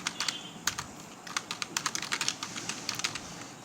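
Computer keyboard typing while entering text in an Excel spreadsheet, a close run of quick uneven key clicks in bursts, with no talking.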